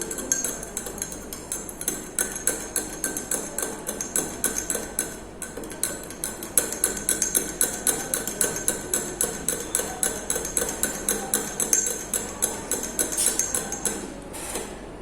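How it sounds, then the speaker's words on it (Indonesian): A metal spoon stirs sugar in a glass of hot tea, clinking rapidly and steadily against the glass in a fast, even rhythm throughout, close and clear with no talking. "we pour some sugars in the glass. Okay, we stir again."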